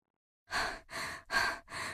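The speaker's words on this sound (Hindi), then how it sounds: "कालू कौवा उड़ता हुआ आया और अपनी छतरी बंद करते हुए हांफने लगा" Four heavy, rapid breaths in a steady rhythm, loud and close, like a cartoon crow panting hard after flying.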